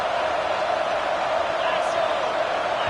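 Roaring stadium crowd in an NCAA 26 college football video game, a dense unbroken wall of noise loud enough to force a false start, sustained at even volume throughout.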